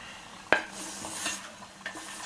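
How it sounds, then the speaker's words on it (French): A utensil clinks sharply once against a bowl, then scrapes and swirls softly as leeks are folded into batter for a leek galette, with a second lighter tap near the end. "on incorpore les poireaux dans notre pâte avec délicatesse"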